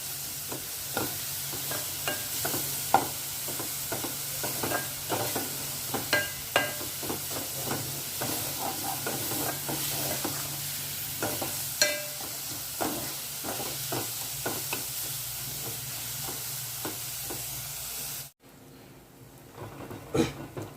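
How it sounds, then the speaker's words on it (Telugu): Ginger garlic paste frying with onions in a pan, a steady sizzle broken by repeated scraping and stirring clinks, then cutting out abruptly near the end before quieter background resumes. "ఈ జింజర్ గార్లిక్ పేస్ట్ని కూడా వేసుకుందాం వేసుకుని పచ్చివాసన పోయేంత వరకు వేయించుకుందాం"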